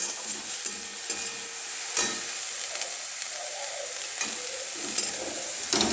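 Frying in a pan for chicken soup makes a bright, continuous sizzle and hiss, with occasional scraping stirs and soft taps of a utensil against the pan.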